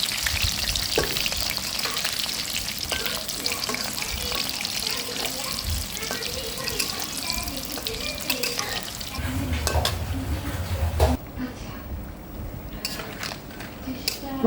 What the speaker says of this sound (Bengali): তেলটা গরম করে নিয়ে আমি পিঠাগুলো ভেজে আপনাদেরকে দেখাচ্ছি